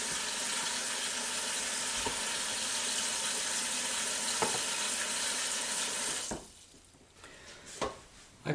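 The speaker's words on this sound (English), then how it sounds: "We have to add water to the pot." Water pours steadily into a soup pot holding a meaty bone for French Canadian pea soup, a loud, close rushing stream that runs about six seconds, then cuts off, leaving a few faint knocks.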